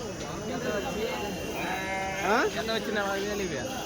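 Sheep and goats bleat at a weekly Tuesday livestock market in Kadiri. Several wavering bleats rise over a constant crowd murmur, and people talk nearby.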